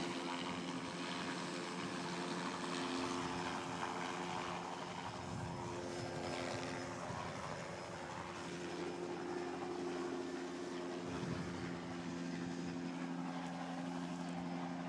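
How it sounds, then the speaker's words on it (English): A helicopter flies away with a steady engine and rotor drone, a rough, whirring texture, holding fairly loud throughout with no voices over it. "And there goes the helicopter."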